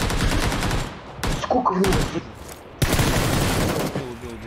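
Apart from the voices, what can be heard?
gunfire, from video game PUBG Lite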